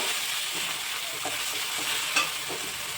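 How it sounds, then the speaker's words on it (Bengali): Onion, ginger, garlic and tomato masala fries and is stirred in a pan for Bengali mutton curry with potatoes, a continuous close sizzle broken by repeated scraping stirs. "মশলাটা ভালো করে কষিয়ে নেব।"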